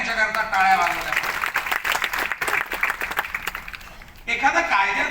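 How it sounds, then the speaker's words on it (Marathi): An audience applauds at a book launch for a legal work, a dense ripple of clapping that swells and dips for several seconds, with a speaker's voice cutting through it. "आता परत एकदा यांच्याकरता टाळ्या वाजवल्या"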